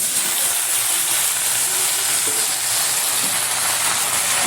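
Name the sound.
washed jute leaves added to a hot frying pan, sizzling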